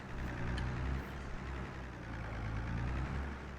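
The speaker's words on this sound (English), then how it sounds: "This poor tractor is absolutely run down." Run-down tractor engine in the Farming Simulator 22 video game, a continuous low rumbling idle with a steady throbbing drone throughout, fairly close and unchanging.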